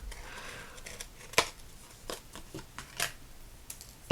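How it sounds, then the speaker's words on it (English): Small, very sharp scissors snipping through recycled Christmas card stock, a few crisp separate cuts spread across a quiet background, with a louder clack at the very end. "These scissors are great. They are super sharp."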